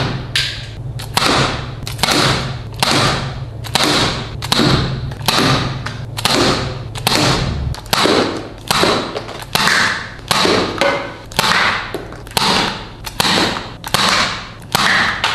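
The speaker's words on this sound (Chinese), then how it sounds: "如果我们把软弹同时装进去，哎，一起发射，那会是什么样的情景呢" A cheap toy double-barrel revolver fires foam darts and water together in a fast run of sharp, loud snapping shots, about a dozen, evenly spaced and close by, with no talk.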